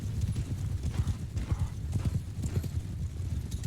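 Cavalry horses in Mount & Blade 2 Bannerlord clip-clopping in quick, uneven hoofbeats at close range, with a brief whinny over the galloping.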